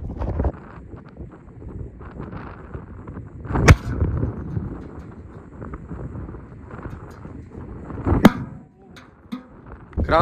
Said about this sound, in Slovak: Krásny výbuch, kopa dymu.